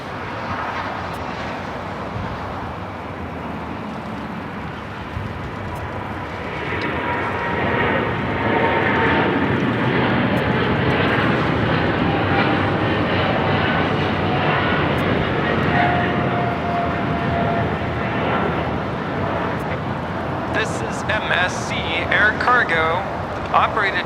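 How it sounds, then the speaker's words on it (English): Atlas Air Boeing 777 freighter taking off from Los Angeles LAX bound for Hong Kong, jet engine roar building to a loud sustained rush heard from a distance, with people talking over it. "Operated by Atlas Air, Giant 355, taking off to Hong Kong on a 777 freighter"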